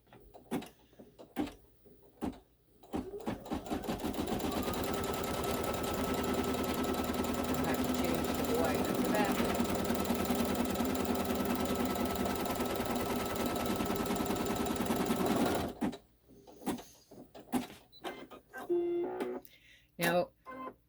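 A sewing machine runs steadily for about twelve seconds, stitching a single piece of fabric in black thread for a haunted-house quilt block, with brief handling clicks and soft talk before and after.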